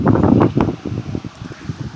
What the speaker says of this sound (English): it's windy again today